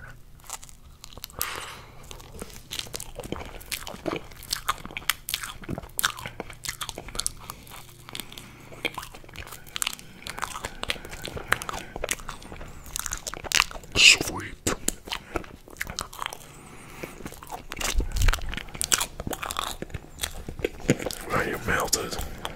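Torch-roasted marshmallows are eaten close to the microphone, with soft sticky bites, crunches and wet chewing repeating steadily, and quiet whispery talk in between.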